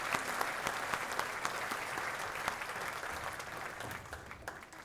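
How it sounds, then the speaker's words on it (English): A civic celebration audience claps for award winners, a steady crowd applause that holds for about five seconds and eases slightly near the end. "We can give one more final round of applause to all of our winners"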